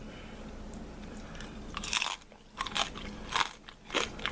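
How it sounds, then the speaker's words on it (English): Close, loud crunching bites into crispy pork fat on a roasted pork knuckle, a few sharp crackling chews spaced apart over a quiet background. "Let's try some of this crispy, crunchy fat."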